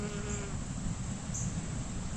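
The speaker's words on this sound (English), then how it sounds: "He's a pretty bee." A bee buzzes steadily around fragrant flowers in a suburban garden, a soft, continuous drone close by with faint outdoor hiss and no talking.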